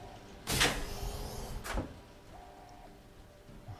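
A cupboard in Fallout 3 opening in a game, with a loud wooden creak and clunk followed by a second shorter bump, then quiet with a faint hum.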